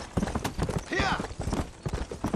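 A horse's hooves clip-clop in a quick, rhythmic gallop in the video game Red Dead Redemption, close and steady, while someone talks over it.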